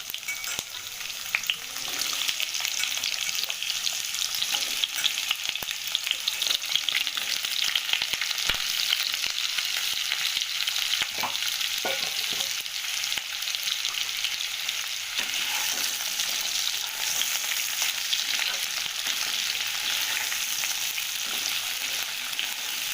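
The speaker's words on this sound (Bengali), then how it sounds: "তেল গরম হয়ে গেছে আমি আলুগুলোকে ভাজতে শুরু করলাম" Potatoes frying in hot oil, giving a loud, dense, continuous sizzle and crackle throughout with no one speaking.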